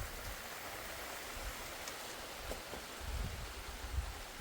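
Heavy rain pouring down in a village near Porbandar, Gujarat, a steady wash of hiss with soft low rumbles and occasional heavier gusts, fairly faint and distant.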